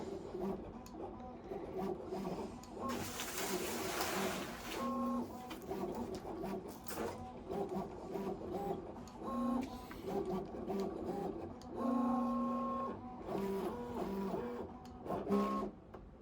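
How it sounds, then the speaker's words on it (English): A Loklik iCraft cutting machine runs close by, quiet whirring motor passes with rhythmic stepping tones and short pauses as the carriage moves back and forth, no talking. "It's such a quiet cutter."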